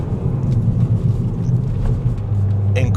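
A Hyundai i20 N hot hatch at full throttle through a corner gives a loud, steady low engine drone with road rumble, constant and close throughout.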